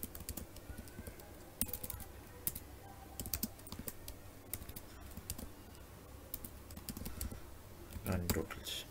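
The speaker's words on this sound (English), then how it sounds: "Let's just type it again." Bursts of quick, clicky keystrokes on a computer keyboard, close and fairly quiet, separated by short pauses, with a flurry of taps toward the end.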